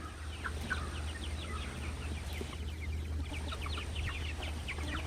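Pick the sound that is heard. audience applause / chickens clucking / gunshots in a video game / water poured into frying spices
chickens clucking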